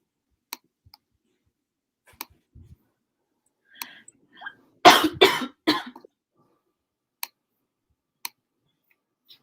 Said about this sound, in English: I didn't know you were coughing during this live